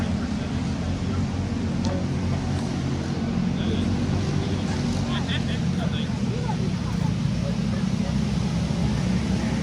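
At the start of a junior L0206 sprint kart feature race in East Lansing, small kart engines produce a loud, steady droning roar that holds for the whole stretch, with an announcer's voice over it.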